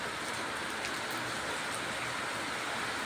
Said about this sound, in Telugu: వర్షం పడుతూనే ఉంది. గుడి ముందర రేకులు ఉన్నాయి.